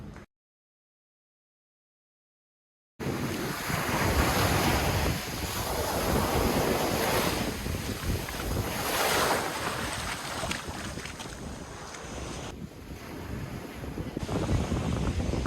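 Winter surf washes onto the shoreline at Serenity Beach on the Pondicherry–Mahabalipuram coast. After a brief silence, a steady roar of breaking waves rolls on, mixed with gusty wind buffeting the microphone, and nobody speaks.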